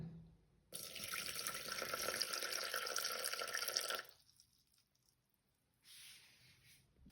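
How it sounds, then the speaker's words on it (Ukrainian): Water poured into two sourdough starters, one wheat and one rye, at close range: a steady splashing stream runs for about three seconds, stops, then a shorter second pour follows near the end, with no talking. "Добавляємо 145 грам води."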